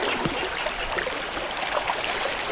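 Floodwater rushes in a steady, continuous wash through a swollen creek beside flooded rice fields, where a bridge over the stream is submerged. A thin, high, constant whine sits over the flow the whole time.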